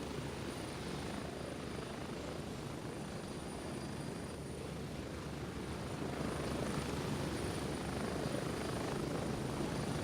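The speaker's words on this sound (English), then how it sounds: "Man, is this helicopter ever loud?" Loud, steady helicopter rotor and engine roar in the video game Gray Zone Warfare, filling the whole stretch without a break and swelling slightly near the end.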